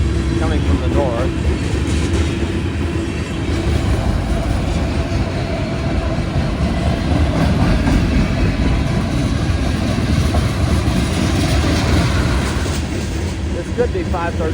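A freight train rumbles past at close range as a continuous heavy roar of rolling wagons and engine drone, steady and loud throughout.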